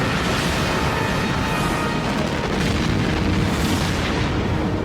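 Space station guns firing on an enemy fleet of destroyers in a sci-fi battle scene, a dense continuous roar of booms and explosions with no break, loud and close throughout.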